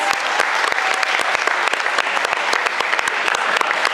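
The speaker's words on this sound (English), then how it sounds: "Give them another big round of applause, please." A crowd at a cosplay competition claps steadily and loudly, dense applause filling the whole stretch without pause.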